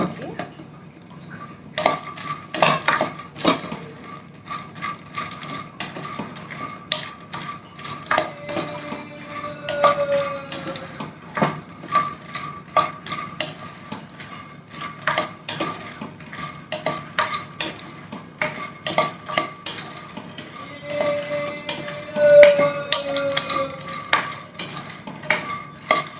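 Makhana (fox nuts) roast in a pan while a spoon stirs them, giving repeated close scraping and rattling clinks over a soft sizzle that continues throughout with brief pauses.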